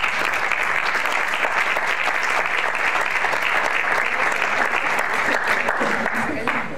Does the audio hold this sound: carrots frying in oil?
no